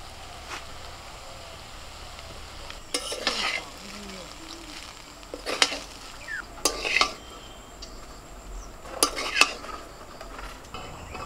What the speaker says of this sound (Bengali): নামানোর আগে ধনে পাতাটা দিয়ে নেড়ে চেড়ে নামিয়ে নেব।